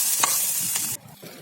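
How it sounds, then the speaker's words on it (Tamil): Sliced onion and curry leaves sauté in a hot pan, a close, loud sizzle with two quick stirring scrapes before the frying hiss abruptly drops to a quieter level. "ஒரு பெரிய வெங்காயம் அதையும் ஸ்லைசஸ் பண்ணி இதில் போட்டுக்கலாம் கருவேப்பிலை போட்டுக்கலாம் நல்லா வதங்கட்டும்"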